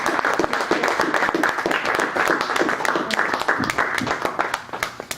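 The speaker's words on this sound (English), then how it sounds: "maybe we could give Jonathan some applause" Audience applause for a presenter after a talk, a dense burst of clapping from a seated crowd, fairly loud and continuous before thinning out near the end.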